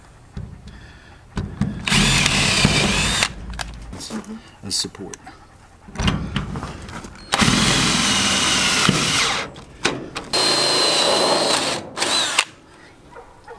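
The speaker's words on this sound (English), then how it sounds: "Now let's drill the other side." A power drill whines in several bursts of varying length, biting into a metal stud, with short pauses and a few spoken words between runs.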